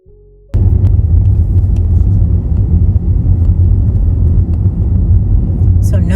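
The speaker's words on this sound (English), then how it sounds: "let's go ahead and take a ride down the street" A car rolls down Broad Street in downtown Augusta, Georgia, its steady road rumble and engine drone loud and continuous after a brief quiet start.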